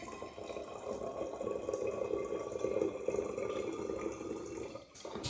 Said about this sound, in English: And now I'm just going to add water.